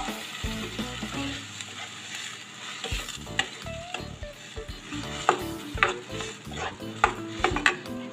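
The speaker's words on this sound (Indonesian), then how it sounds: "Kemudian kita masukkan air guys" A pan of seblak with water just added, sizzling and bubbling while a utensil scrapes and clinks against the pan in irregular bursts, moderately loud and close.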